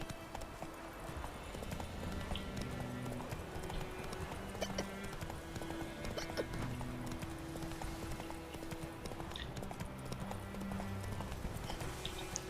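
Roach the horse from The Witcher 3 galloping, with quick, steady clip-clop hoofbeats rolling on under a busy game soundscape, moderately loud and continuous with no one talking.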